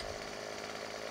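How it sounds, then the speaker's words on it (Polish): A chainsaw in the video game Farming Simulator 17 cuts trees with a steady, unbroken buzzing drone that sounds near and moderately loud over the whole short stretch. "zetniemy sobie taką tutaj piłą, tym sztylem"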